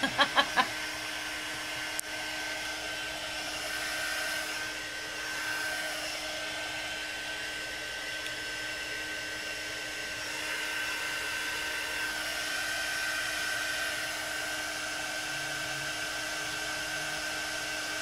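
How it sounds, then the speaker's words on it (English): A heat gun blows steadily to dry a mixed media painting, a close, continuous whirring drone with a high whine. It runs unbroken for the whole stretch after a few sharp clicks at the start, with no talk. "It's gonna take a little longer than what I'm gonna let my heat gun run."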